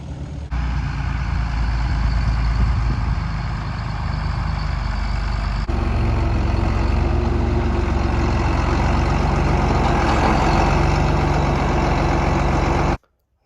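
A heavy diesel tractor engine idles loudly and steadily, a deep continuous rumble that cuts off abruptly at the end.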